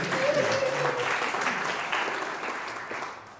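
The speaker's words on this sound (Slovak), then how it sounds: "poprosím potlesk" Warm round of audience applause at a school graduation gala evening, steady at first and then gradually fading, with a murmur of voices underneath.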